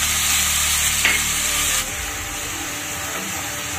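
Ground coriander and cumin fry in a pan, and a splash of water for a soybean malai curry drops the loud sizzling hiss a little partway through, with a single stirring scrape heard nearby.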